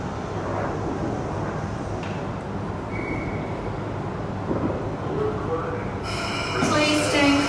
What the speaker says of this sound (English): Please stand clear, this train is now due to depart.